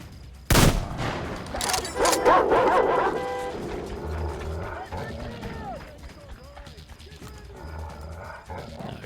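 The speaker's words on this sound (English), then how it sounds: "So when the dogs show up, I just need to start shooting them." In the video game Metro Exodus, dogs bark and snarl amid a sharp gunshot and bursts of gunfire, with a person talking over the loud, chaotic action.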